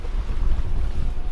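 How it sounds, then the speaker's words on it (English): On a sailboat off Scotland in wet, windy weather with a choppy sea on the beam, gusting wind buffets the microphone over a constant low rumble of water and hull motion, with no voices. "It's wet, it's windy, the sea's choppy, it's right on our beam."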